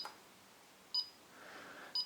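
A homemade Arduino burglar alarm keypad gives two short, high electronic beeps about a second apart, quiet and clean against a faint room background.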